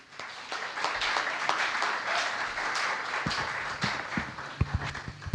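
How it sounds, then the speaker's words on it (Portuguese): A church congregation applauding during a worship service, with fairly faint, moderately dense clapping that builds quickly and then thins toward the end. "Uma salva de palmas ao Espírito Santo."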